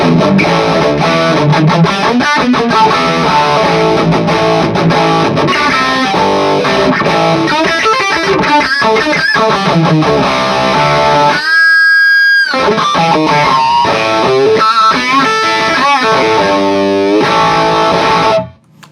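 A loud electric guitar plays through a Supro 24 clone amp with an MXR EVH heavy distortion pedal, saturated chugging chords and sustained notes with a brief pause midway before ringing out.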